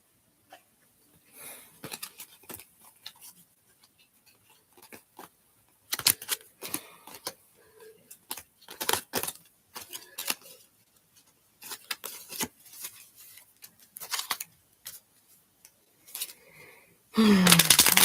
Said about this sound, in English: Let's go ahead and do a quick shuffle.